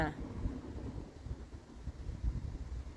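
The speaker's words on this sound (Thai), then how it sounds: "ลมแรงมากเลยวันนี้ค่ะ" Strong wind blows across open countryside in rural Sweden, buffeting the microphone with loud, gusty, low rumbling that rises and falls throughout.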